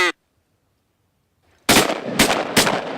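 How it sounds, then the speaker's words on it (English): Several shotgun blasts while hunting mallards and geese in Montana, loud close reports fired in quick succession after a brief quiet stretch, with a short honk-like call at the very start. "Keep shooting."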